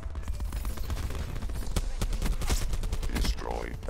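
Gunfire in the video game Call of Duty Black Ops 4, rapid bursts of shots crackling almost without pause, loud and dense across the whole stretch, with a voice talking over it.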